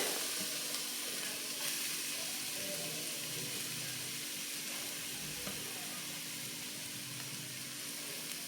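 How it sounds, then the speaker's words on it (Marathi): Grated carrot sautéing in ghee for carrot halwa, giving a steady, soft sizzle with faint stirring scrapes throughout, fairly quiet and close, with no talking. "तीन ते चार मिनटं आपण तुपावरती असाच हा खीस छानपैकी परतून घेऊयात"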